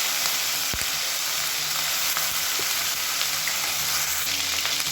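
Spices, bay leaf, mint, coriander leaves and onion sauté in oil in a pan, giving a steady close sizzle with a few soft stirring knocks and no talk.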